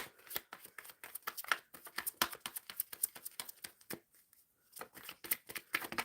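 A deck of tarot cards is shuffled by hand at close range in quick, crisp riffling bursts that pause briefly before resuming, with no talking.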